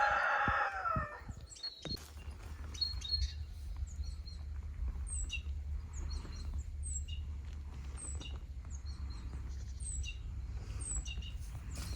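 Chickens in a backyard vegetable garden cluck and chirp in short, repeated high calls throughout, moderately distant over a steady low rumble, with a brief louder noise at the very start.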